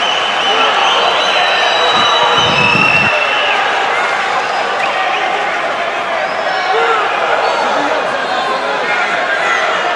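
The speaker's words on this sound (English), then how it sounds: "Crowd's loving this, deafening in this arena right now." A packed arena crowd roars continuously at an MMA fight at M-1 Challenge 67, a loud, steady wall of cheering with a commentator talking over it.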